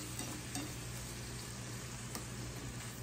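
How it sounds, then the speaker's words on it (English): Onions sauté in butter in a pan while being stirred and broken up, a soft, continuous sizzle with occasional scraping stir sounds, fairly quiet and close, with no talking. "turn this up just a little so that I can saute my onions"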